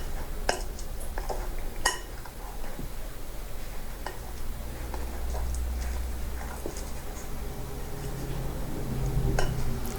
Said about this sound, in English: you have to kind of just mix it, keep mixing it